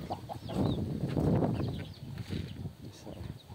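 Farm chickens clucking, including a broody hen, with a cluster of throaty clucks and soft bird calls close by, fading to quieter clucking toward the end.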